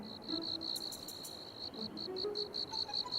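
A cricket chirps steadily in the game Visions of Taiwu, with rapid pulsed trills repeating in a regular rhythm, fairly faint over a quiet background with other light insect buzzing, no talk.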